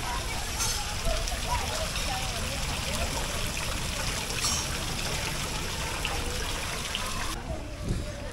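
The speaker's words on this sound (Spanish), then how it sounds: "Tiene agua funcionando. Y esta fuentecita bien bonita." A small park water fountain runs continuously, a steady hiss and trickle of splashing water heard up close with no clear pauses.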